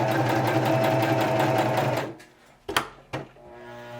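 A Singer sewing machine stitches test material in a fast, steady mechanical whir for about two seconds, then stops, followed by a couple of sharp clicks from the machine.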